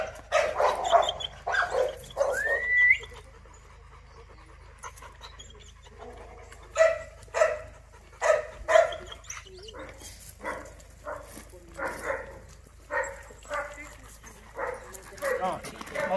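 A large, strong pit bull whines, yips and barks in short bursts, with panting between, while people talk nearby.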